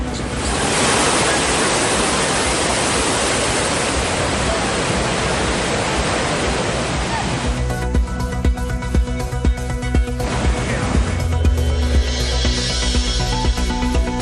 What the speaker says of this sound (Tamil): உதகையில் பாய்ந்து வரும் பைக்கார் அருவியின் அழகை ரசித்து மகிழ்ந்து உற்சாகம்.